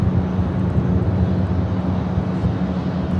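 An ITA Airbus A330neo jet airliner at LAX airport, heard as a loud, continuous, rumbling jet roar with wind buffeting on the microphone and no voices.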